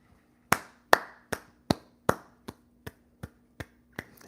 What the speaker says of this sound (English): I'm just applauding how clever that is.